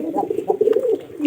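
A pigeon coos up close, a short run of soft, throaty pulsing notes that swells and ends on a stronger low coo.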